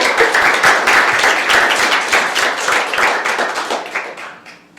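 Audience applause at the close of a Fulbright Forum lecture, a dense, steady patter of many hands clapping close by that gradually thins out toward the end.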